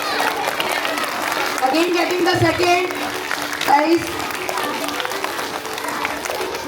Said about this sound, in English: please clap loudly.